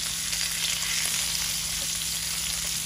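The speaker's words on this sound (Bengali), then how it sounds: "এই যে আমাদের মাছ ভাজি হয়ে গেছে, কড়াইতে রাখছে এক করে হয়ে গেছে।" Pangas fish frying in oil in a wok, a loud, steady close sizzle with a constant crackle throughout and no voices.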